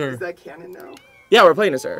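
A cat meows in The Sims 4 Cats & Dogs life-simulation game, a loud drawn-out meow rising out of the mix near the end, with people talking over it before and after.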